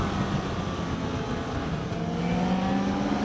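A 2016 BMW F 800 GS Adventure motorcycle engine pulling hard through first and second gear, a loud sustained drone with rising pitch and heavy wind rush, no talk.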